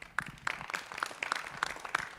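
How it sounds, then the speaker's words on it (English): A conference audience applauds the host, with steady, fairly faint clapping from a moderate distance that carries on through the whole stretch. "Please, let's clap for our host again."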